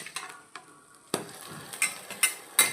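A fenugreek dosa is flipped on a pan over a slow flame: a handful of sharp scraping clatters of a spatula against the pan, spaced irregularly over a faint background sizzle, with no voices.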